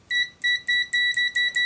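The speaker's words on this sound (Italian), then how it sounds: "Vediamo il cicalino" Zoyi ZT-706S digital multimeter in continuity mode gives a series of six bright, clear electronic beeps in a steady, evenly spaced rhythm, each lasting about a fifth of a second, with no talking.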